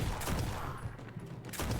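Alien pulse rifle fire in the horror game Lovecraft's Untold Stories comes as rapid bursts of loud, crackling, noisy shots, with a short lull in the middle before the firing resumes.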